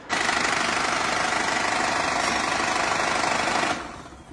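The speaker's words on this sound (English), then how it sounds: "The engine is knocking from bottom end" A Mini R53 engine with a bottom-end fault runs close and loud in a workshop, a steady rapid knocking clatter that continues for several seconds and then cuts off abruptly.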